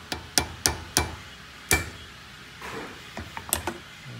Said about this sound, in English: This is the technical hammer hit.